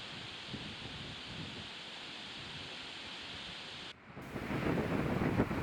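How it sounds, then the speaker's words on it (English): Strong wind and whitecapped waves on Eastern Lake Ontario make a steady roar with wind buffeting the microphone, then grow louder in a gust near the end. "big white caps, lots of wind"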